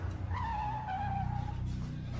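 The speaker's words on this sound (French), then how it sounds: "j'ai entendu des voitures s'arrêter devant l'hôtel" Cars pulling up and skidding to a halt in the street outside a hotel, a drawn-out tire squeal over a low engine rumble, fairly close and steady for about two seconds.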